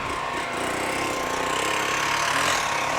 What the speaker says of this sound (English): This bike here has to be the quietest bike of the day.